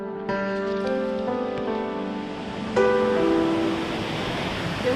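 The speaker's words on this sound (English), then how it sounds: "This is the second waterfall." Steady rushing water at a cold waterfall on a motorcycle trip from the cloud forest toward the coast, a continuous broadband roar with sustained tonal sounds layered over it.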